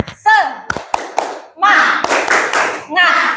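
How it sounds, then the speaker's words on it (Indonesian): Students in a classroom clap a rhythmic spirit cheer, with sharp bursts of hand claps and thumps alternating with short shouted chants, all close and loud. "Tepuk semangat."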